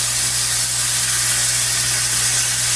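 Chicken searing in a hot skillet for a quick honey garlic glazed dish, a steady loud sizzle and hiss with no break and no talking.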